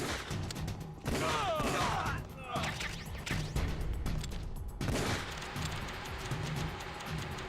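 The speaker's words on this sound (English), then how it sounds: "I didn't mean to shoot that fire extinguisher" Gunfire in Metal Gear Solid: The Twin Snakes strikes a fire extinguisher, a volley of sharp shots with metallic ricochet pings and hissing spray bursts, loud and irregular over several seconds.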